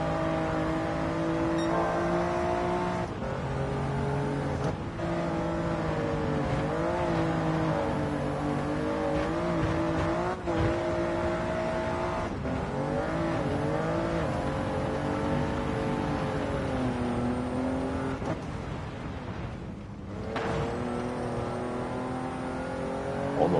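A Chaparral 2J race car engine in Gran Turismo 7 drones steadily at high revs, its pitch wavering and briefly dipping as though faltering, loud and continuous with no talk.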